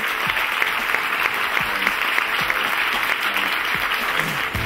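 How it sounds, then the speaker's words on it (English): Steady audience applause at a live cookery show, many hands clapping densely and evenly throughout, loud and close, with no voices standing out. "Give him a nice round of applause."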